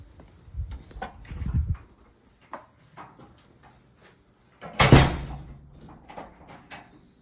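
A house's front door opens or closes with a few clunks and rattles, then a louder bang from the latch or frame. The sounds are close and sharp, set against a quiet room.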